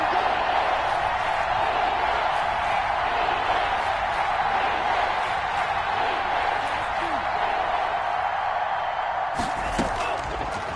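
A stadium crowd in a PS4 football video game roars steadily ahead of a big third down. The murmur stays loud and continuous, and a slightly sharper burst comes near the end.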